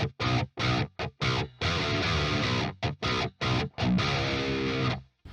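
A heavily distorted electric guitar plays a djent-style tone through a Fortin Nameless amp plugin: tight, palm-muted chugs in choppy stop-start bursts with sharp silences, then a sustained chord, loud and alone.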